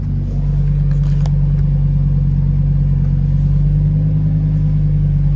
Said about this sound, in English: It's really amazing to hear that big 10-cylinder behind you.